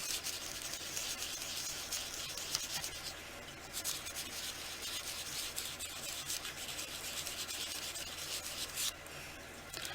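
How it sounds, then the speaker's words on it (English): Polymer clay faux stones are sanded by hand with a steady, close scratchy rubbing that rises and falls in strokes for the whole stretch, with no talk. "you're still going to have to sand them."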